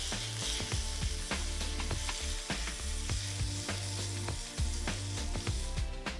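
Pieces stir-frying in smoking hot oil in a wok, a loud close sizzle broken by rhythmic scraping and clanking of the utensil against the metal, with no talking.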